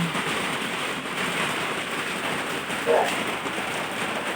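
Steady rain pours down in a continuous hiss during flooding, with a brief faint voice-like sound partway through.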